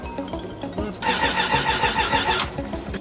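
A car engine that is out of gas cranks over and over without catching, a close, loud, rhythmic churning that grows denser and harsher midway before easing off.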